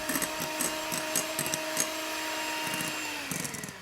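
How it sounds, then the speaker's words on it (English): Electric mixer whisking meringue as sugar is added, a steady close motor whir with rhythmic bursts as the beaters knock and sweep the bowl, heard alone throughout. "Add the rest of the sugar and whisk until it gets glossy."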